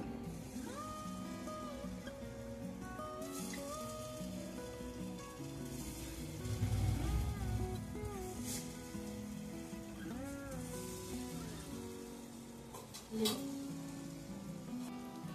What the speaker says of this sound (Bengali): একদম লো ফ্লেমে রেখে নাড়াচাড়া করে আমি লাল লাল করে এটাকে ভেজে নেব